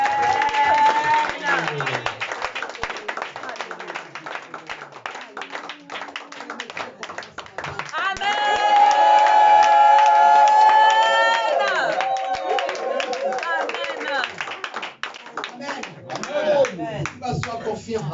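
A church congregation applauding and acclaiming God, a long run of crowd clapping mixed with shouts and cheering voices, rising to a loud swell midway before settling into continued clapping and chatter.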